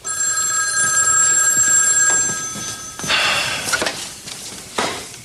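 A telephone rings in a home, with a sustained loud ringing tone for about three seconds, followed by clattering handling noises and a few knocks as the receiver is picked up.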